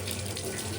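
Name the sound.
washing dried fish under running tap water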